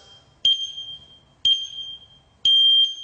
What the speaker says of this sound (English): It starts with a 10-second countdown timer before you get into the workout,